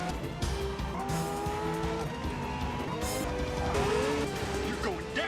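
A movie car chase plays back with squealing, screeching tires and roaring engines, several drawn-out skids overlapping in a continuous noisy rush, heard faintly in the background with voices over it.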